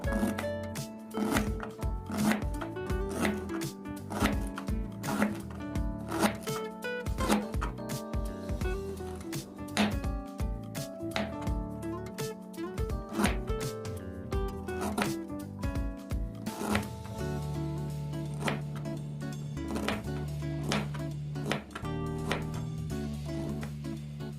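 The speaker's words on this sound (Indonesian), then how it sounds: "kemudian jahe merah ini kita rajang-rajang" Red ginger is chopped finely with a knife on a cutting board, with rapid, dense knocks that run steadily the whole time, close and clear with no talk.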